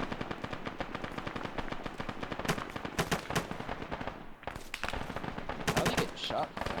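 Rapid gunfire crackles through a town during a military-style operation, dense bursts of automatic shots overlapping in quick succession, some sharper and closer than others, with faint voices underneath.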